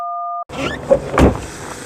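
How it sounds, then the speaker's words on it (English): A short two-tone electronic chime cuts off, then the door of a Mk3 Vauxhall Cavalier thuds shut with a solid, muffled slam inside the car. "excellent door shut sound"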